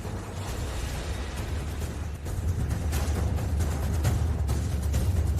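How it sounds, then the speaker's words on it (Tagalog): Fireworks set off for a wedding celebration give a continuous roar of dense blasts and crackling pops, loud and sustained throughout with no talk. "Ang mga paputok na inihanda ko para sa kasal ko."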